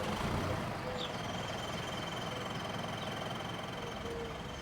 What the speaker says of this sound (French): Elle saute sur le tracteur.